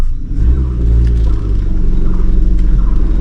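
Car engine idling low and steady on an uphill start, its rumble deepening slightly and gaining load as the clutch is slowly let out to the biting point, close and continuous with no talk.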